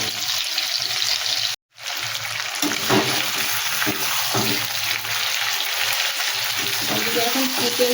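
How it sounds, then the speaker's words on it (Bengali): Potato pieces fry in hot oil with a dense, continuous crackling sizzle that stays loud throughout, broken by one brief full dropout early on; faint low clatter sits underneath. "আলুটা একটু ভালো করে ভেজে নিই।"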